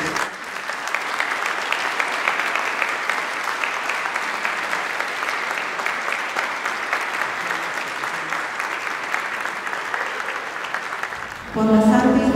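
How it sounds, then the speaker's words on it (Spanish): Wedding guests at a church ceremony give a long, strong round of applause, a steady dense clapping that fills the room, and a voice begins speaking just as it ends. "Damos un fuerte aplauso."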